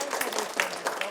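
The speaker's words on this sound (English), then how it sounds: "thank you very much for the applause" An audience applauds after a talk about life in Germany, a short burst of dense clapping that carries on throughout.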